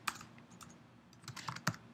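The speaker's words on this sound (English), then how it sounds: "So I'm going to type in GSM, all capital" Typing on a computer keyboard in a quiet room on a Mac, several crisp key clicks spaced irregularly, a quick cluster near the end, close and soft.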